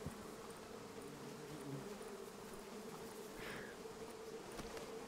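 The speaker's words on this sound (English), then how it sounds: "The bees! The bees! The" Dense swarm of bees buzzing continuously in the video game Fortnite, a steady droning hum that holds at an even level throughout with no voices over it.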